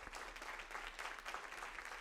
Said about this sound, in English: I'm assuming the applause were for you.